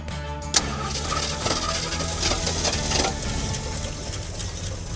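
An old car engine, pulled out of a barn and freed up with WD-40, cranks briefly, then catches and runs. It holds a loud, steady, rough idle with rattling mechanical texture.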